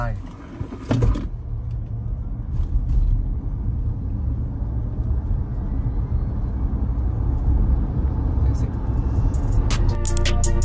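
A Kia EV5 Long Range electric car accelerates hard in sport mode, a steady building rumble of road and wind noise heard from inside the cabin, with a voice talking over the start.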